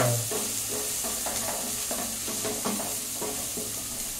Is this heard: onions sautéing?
yes